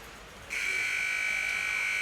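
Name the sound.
ice hockey arena buzzer ending the second period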